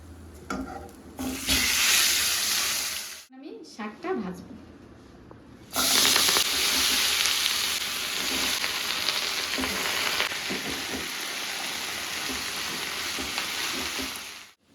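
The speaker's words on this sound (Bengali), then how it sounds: "শাকটা অল্প ভাজা হয়ে গেছে এখন আমি দেব" Greens (saag) fry in a pan, a loud close sizzle with stirring scrapes that cuts out briefly midway, then returns just as strong and steady, with a voice speaking over part of it.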